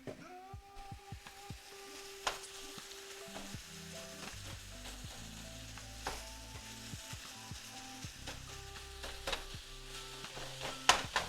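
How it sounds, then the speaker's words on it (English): Vegetables sauteed in a pan for veggie fried rice, a low crackling sizzle with scattered sharp ticks and scrapes, fairly quiet and close, beneath a faint tonal hum. "Saute."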